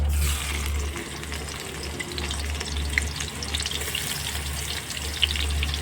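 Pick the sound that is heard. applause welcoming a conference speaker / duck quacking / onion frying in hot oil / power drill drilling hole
onion frying in hot oil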